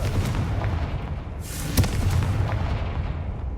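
A Confringo fire spell blasts in the Hogwarts Legacy video game, a single sharp burst with a bright crackling flare about midway, set against a steady rumbling game soundscape.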